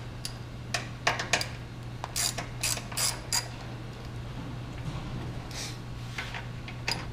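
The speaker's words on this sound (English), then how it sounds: "Next, you're going to remove the 4 T45 bolts from the swing arm, or from the strut." A ratchet wrench loosens T45 bolts from a motorcycle swing arm strut. It gives close clicking runs in short repeated bursts over a steady low electrical hum.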